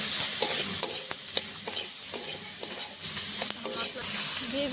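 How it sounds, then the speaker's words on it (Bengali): Ground spices with salt, turmeric, chili, cumin and coriander powders fry in a pan for a Bengali mixed vegetable dish, giving a steady hiss and sizzle with scraping stirs and light clinks of the spoon, close up. "মশলাটা কষানো হয়ে যাবে ভালো করে।"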